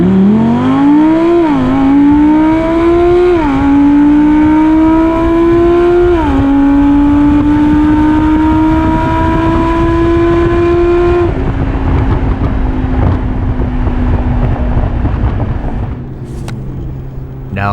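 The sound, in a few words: stock Audi R8 V10 accelerating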